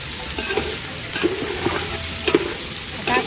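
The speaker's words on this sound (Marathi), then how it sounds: "कांदा आपल्याला व्यवस्थित असं शिजून घ्यायचं आहे एकदम सोनेरी कलर येईपर्यंत" Onion frying in a pan until golden, cooked in a large batch for a big meal, gives a steady close sizzle with occasional spoon scrapes and stirring clinks, moderately loud and without talk.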